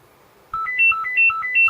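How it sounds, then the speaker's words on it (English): A phone ringtone chimes nearby, a repeating pattern of bright electronic tones cycling up and down in a quick melodic loop, loud and clear with no talk over it. "phone rings."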